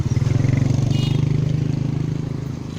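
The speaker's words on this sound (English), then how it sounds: "Motorbikes and tuk-tuks take that corner really, really hard." A motorbike or tuk-tuk engine putters steadily and close on a sharp corner in Cambodia, a pulsing low throb that slowly fades as it passes, with no talking.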